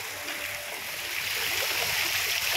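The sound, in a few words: water falling at the beach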